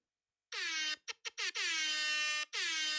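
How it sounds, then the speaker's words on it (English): Loud blasts of an air horn: one long honk, a few quick short bursts, then another long blast. "Air horn."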